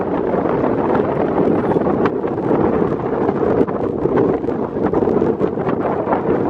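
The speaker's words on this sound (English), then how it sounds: "It's a bit windy." Steady, strong wind on the Col Ferret mountain pass at 2,500 meters buffeting the microphone, a continuous roaring rush with gusty fluctuations and no voices.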